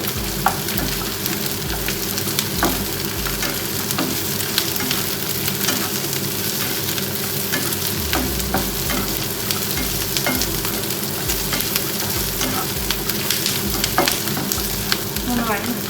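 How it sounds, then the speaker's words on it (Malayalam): Cashews frying among sautéed onions in a pan, a constant close sizzle with repeated spatula stirring strokes and light clinks throughout. "ഈ വഴന്നു വന്ന ഉള്ളിയിലോട്ട് ഒരു 7-8 അണ്ടിപ്പരിപ്പ് ഇട്ട് കൊടുത്ത്"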